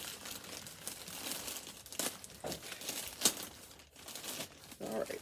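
A package containing yarn is torn open by hand: paper or plastic packaging crinkles and rips in short bursts, close by, with a brief crunch midway and faint rustling throughout.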